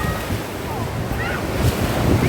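Surf rushes and washes continuously onto the beach at Digha, with strong wind buffeting the microphone throughout.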